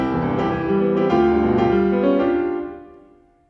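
Solo piano plays the third variation of Beethoven's Sonata Op. 111 in a lecture recital, dense rhythmic chords and runs sounding full and close before a final chord fades away, with no speech.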